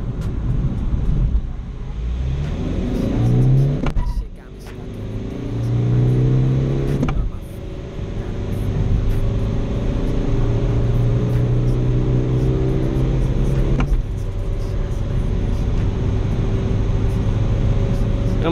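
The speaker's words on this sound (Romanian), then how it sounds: "În primele viteze se duce mai bine Fabia, mult mai bine" A Skoda Fabia accelerating through the gears, engine pitch climbing then dropping at each of several shifts, steady interior drone with someone speaking over it.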